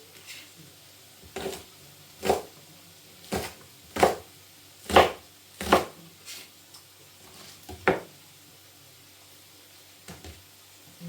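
A knife chops spring onions on a cutting board in a home kitchen, a series of about a dozen separate, irregularly spaced thuds heard up close, with quiet talk faintly in the background.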